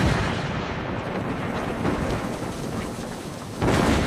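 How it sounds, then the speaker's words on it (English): An AI-generated building explosion rumbles as a deep, continuous roar with crackling debris, then a fresh loud burst erupts near the end. "I really like how it created the explosion."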